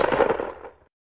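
A single shotgun blast in a video game, loud and close, with a short rumbling tail that fades out within about a second.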